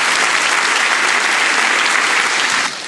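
Loud, dense applause from an audience at a political forum in Mexico, filling the whole moment after a precandidate's speech, steady throughout and then dropping off sharply near the end.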